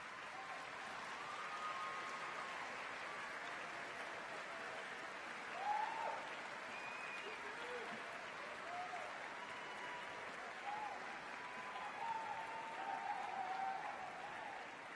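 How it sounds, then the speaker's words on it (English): At a university graduation commencement, a large indoor crowd gives a standing round of applause, a sustained, even wash of clapping that keeps going for the full stretch with faint cheers mixed in. "I would like the graduates to join me in a standing round of applause"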